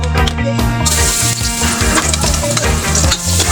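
Garlic fries in oil in a wok, a loud, dense crackling sizzle up close with busy stirring, a steady low hum and a brief quieter moment at the start.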